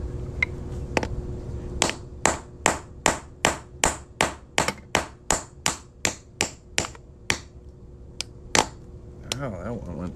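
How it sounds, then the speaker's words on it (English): A hammer strikes a hole punch set into a coin ring, about fifteen sharp metallic taps in a steady, even rhythm, close and loud, followed by a couple of lighter knocks. "Let's go down to the floor and punch a hole in this thing."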